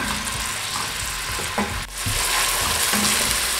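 Meat added to a pot for Kenyan pilau fries with a continuous close sizzle, broken by brief stirring clatter and a short dip before the hiss returns steady.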